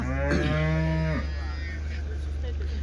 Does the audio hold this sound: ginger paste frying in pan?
no